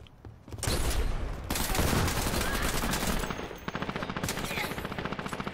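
Automated turret in the shooter game Dirty Bomb firing continuous bursts of gunfire, loud and close, with a choppy rapid stutter in the final seconds.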